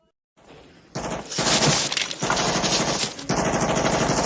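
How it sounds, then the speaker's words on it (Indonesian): A panicking soldier fires his weapon in a Vietnam War film, a loud, continuous crackle of rapid gunfire mixed with shattering, breaking debris that bursts in after a quiet start. "seorang prajurit yang panik menembakkan senjatanya"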